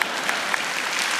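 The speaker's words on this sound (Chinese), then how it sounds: "请鼓掌。" A large audience at the 28th Golden Bell Awards ceremony claps in a brief, dense burst of steady applause, heard from within the hall.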